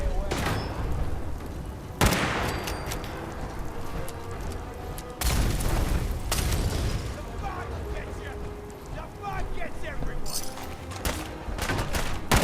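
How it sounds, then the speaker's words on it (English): Bombs explode in Fallout 4 Far Harbor, several heavy booming blasts among rattling gunfire and continuous game noise, loud and close, with a player talking over parts of it. "Who's throwing bombs at me, man?"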